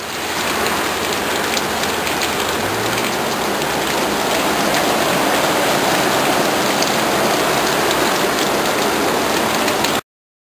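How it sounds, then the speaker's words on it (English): Heavy downpour from a large rainstorm at Highland Hill Farm in Bucks County, Pennsylvania, a loud, dense, unbroken roar of rain lasting about ten seconds before cutting off abruptly. "we're getting a pretty good downpour here right now"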